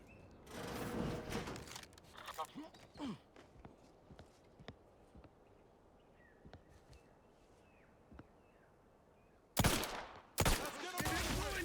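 Video game gunfire: clusters of sharp shots, some in rapid bursts, with a loud volley near the start, scattered single shots through the middle and another heavy burst near the end, over low game ambience with a few footstep-like sounds.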